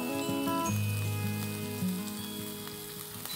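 Chopped cabbage, about a quarter kilo, cooks in a pan with two onions and salt, giving a steady sizzle and hiss that runs throughout, with faint tonal hum in the background.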